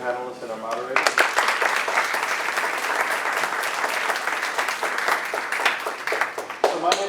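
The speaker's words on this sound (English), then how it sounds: "Please give another round of applause for both our panelists and our moderators." Applause for panelists and moderators at a university diversity officers' panel: a full room claps steadily and loudly for several seconds, then the sound thins into scattered claps near the end.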